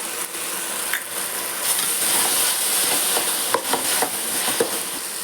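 Chicken biryani masala sizzles steadily in hot oil as chili powder goes in, a dense, continuous close frying hiss with occasional stirring clinks and scrapes.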